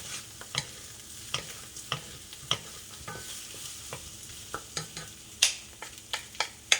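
Shell-on shrimp go into a pot for a spicy shrimp noodle soup broth, with a run of sharp clinks and scrapes over a soft, continuous sizzle, close and fairly quiet.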